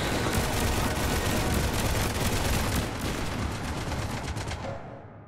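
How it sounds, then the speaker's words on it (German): A relentless, loud barrage of rapid gunfire in Mass Effect 3 (Citadel DLC), dense and continuous for several seconds before tapering off at the end. "Warum einmal schießen, wenn's mit 47 Kugeln auch geht?"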